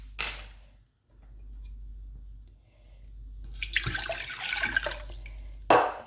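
Water poured into a pot to make syrup for gulab jamun, heard as a faint splashing stream in the middle of the clip, with brief clinks of cookware before and after.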